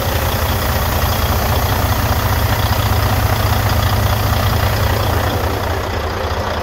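A Volvo VNL truck's D12 diesel engine idles loudly and close by, a dense, steady low rumble with an even rapid pulse that holds throughout, no talking.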